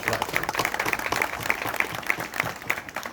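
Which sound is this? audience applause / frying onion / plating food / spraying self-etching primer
audience applause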